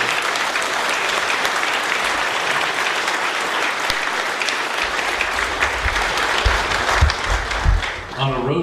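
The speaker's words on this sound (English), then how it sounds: "I want to get Dana Bone another hand of applause because he's amazing." A gala ballroom audience applauds loudly and continuously, dense clapping filling the room, with a few louder claps and low murmurs near the end.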